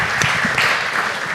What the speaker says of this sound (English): I would actually like to give another round of applause for all of you for this BarCamp session